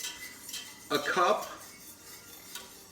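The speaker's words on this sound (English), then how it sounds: "now I'm going to whisk in" Metal whisk scraping and clinking against a pan as butter, cream and Parmesan are stirred into an Alfredo sauce over low-medium heat, a short busy burst of clatter up close, with brief talk nearby.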